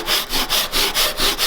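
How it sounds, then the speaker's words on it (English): A hand saw cuts through wood guided along a shooting board, making steady rhythmic rasping strokes at roughly a third of a second each, close and fairly loud, with no talking. "keep an eye on the saw that it's always in contact with the guide at the top"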